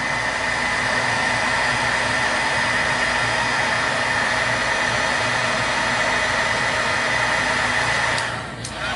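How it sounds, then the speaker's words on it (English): A heat tool blows a steady, loud whirring hiss while melting tiny pieces of plastic on paper, cutting off abruptly near the end. "you're going to take your heater and you're going to go ahead and heat that up"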